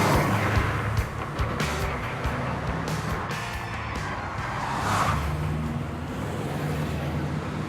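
A Subaru Impreza on gold wheels is driven hard out of a bend, its engine note and road roar loud and close, rising and easing with a few sharp bumps.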